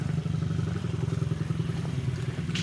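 A motorcycle engine runs steadily up close, with a throbbing low exhaust pulse and a fast regular chug, loud and unbroken.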